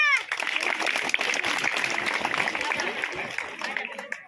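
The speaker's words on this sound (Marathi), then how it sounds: "टाळ्या वाजवा, टाळ्या." A crowd applauds with dense, sustained clapping that carries on steadily for several seconds.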